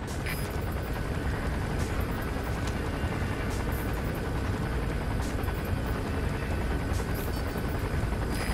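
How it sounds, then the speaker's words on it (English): A chopper landing in Metal Gear Solid V: Phantom Pain, a loud, continuous rotor roar and engine wash that fills the scene steadily with no talk over it. "There's a chopper landing."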